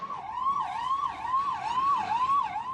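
A wailing ambulance siren sweeps up and down steadily and continuously outside a hospital during the COVID-19 pandemic, heard fairly close and unbroken with no voices.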